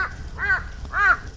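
A crow caws three times in a row in rural Jeju, harsh and fairly close, with short pauses between calls over a quiet outdoor background.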